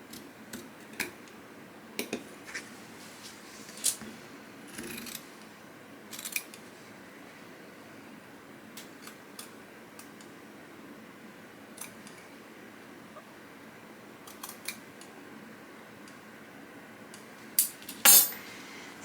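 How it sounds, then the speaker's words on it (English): Scissors snipping fabric close to the corners on a shoulder bag with a topstitched gusset, scattered soft crisp clicks and snips, quiet and close, with occasional louder cuts near the end and no talking. "you will cut as close as you can to the corners without cutting"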